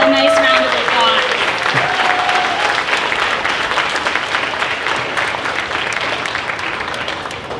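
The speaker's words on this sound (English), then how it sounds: "let's just go ahead and give them all a nice round of applause" A crowd at a county fair queen and princess coronation applauds the contestants with dense, sustained clapping that starts loud, continues steadily, and slowly tapers off, with voices briefly audible at the start.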